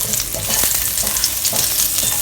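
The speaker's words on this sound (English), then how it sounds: "With the same oil, we'll put in 1 thumb size of ginger" A thumb-sized piece of thinly sliced ginger sizzles steadily in hot oil in a pan, a loud, close, continuous frying hiss with faint stirring scrapes.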